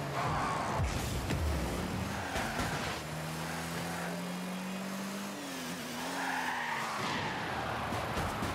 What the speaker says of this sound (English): That was a good drift.